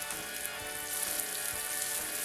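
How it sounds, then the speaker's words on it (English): Cobia fillets sear in a hot pan preheated to 385 degrees, giving a steady, loud, continuous sizzle and crackle with no voices over it. "And now we'll put the cobia fillets into the pan and cook them for 3 minutes."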